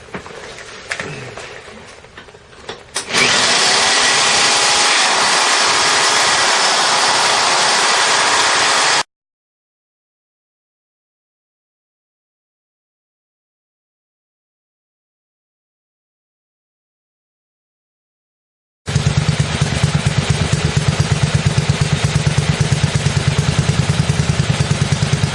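A chopper motorcycle engine runs through a modified Campbells reverse-cone muffler with an exhaust leak, giving a loud, harsh, close roar. It cuts out to silence midway, then returns just as loud.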